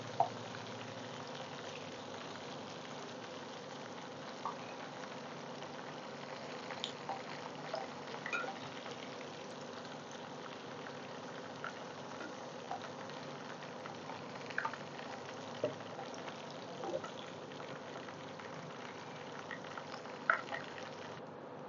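Vegetable pieces frying lightly in oil give off a faint, steady sizzle with scattered small crackles and pops that run evenly throughout, with no talk.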